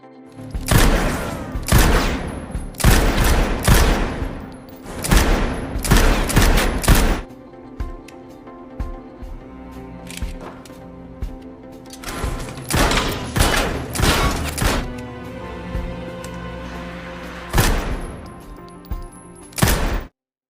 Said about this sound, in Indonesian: John juga latihan menembak.